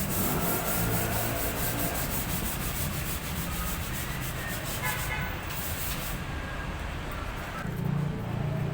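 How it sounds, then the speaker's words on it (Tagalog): Continuous close-up rubbing of 400-grit sandpaper against metal, a steady abrasive scraping that keeps up throughout without pause. "lilihay muna natin ng 400 para matanggal yung mga dumi-dumi niya"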